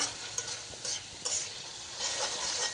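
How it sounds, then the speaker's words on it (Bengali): Shrimp stir-fried in spice paste, a steady broadband sizzle with scraping stir strokes at intervals, close and fairly quiet, no voices. "চিংড়িগুলোকে দিয়ে ভালো করে মশলার সাথে কষিয়ে নিতে হবে।"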